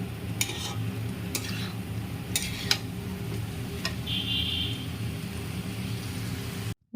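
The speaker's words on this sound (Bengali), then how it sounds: "এই ফুলকপির তরকারিটা দিয়ে দেব এটা নিয়ে একটু কষিয়ে নিব" Cauliflower curry being stir-fried in a pan over a gas stove, a steady low sizzle with scattered scraping clinks of a spoon against the pan, close and continuous, ending in sudden silence.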